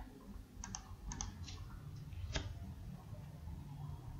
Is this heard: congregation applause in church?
no